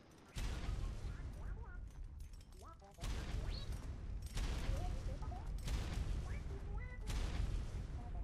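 Gas tanks explode in a Star Wars roleplay video game, a series of loud booming blasts starting near the beginning with bursts at around three, five and seven seconds, each sustaining a heavy rumble.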